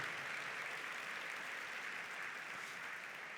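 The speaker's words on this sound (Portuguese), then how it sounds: "Pode dar uma forte salva de palmas para o Senhor Jesus, porque é isso que Ele faz." Sustained applause from a church congregation during a worship service, a dense, steady wash of many hands clapping at even loudness throughout, with no talk over it.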